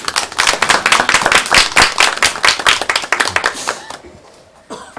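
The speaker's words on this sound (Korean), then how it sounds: "우리 박수 한번 치도록 하겠습니다" A church congregation at a Sunday service claps hands together, loud, close and dense, with sharp overlapping claps sustained for about four seconds before stopping abruptly.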